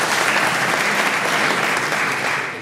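Applause rings out at a Dutch public debate on population decline, a dense, loud, continuous crowd of clapping hands that holds evenly before easing a little near the end.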